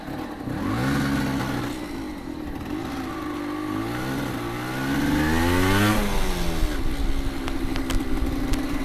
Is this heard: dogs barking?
no